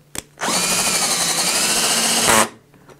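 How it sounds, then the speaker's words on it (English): A power drill runs screws steadily into a subwoofer cabinet during assembly, with a close, loud whirring motor sustained for about two seconds after a couple of small clicks, then a sudden stop. "we're not going to strip the screws, so we're going to run these in just very"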